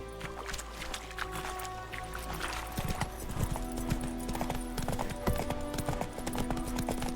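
Horse hooves clip-clop in The Witcher 3 video game, a steady rhythmic trot close up alongside creaking, jingling tack and a faint game ambience.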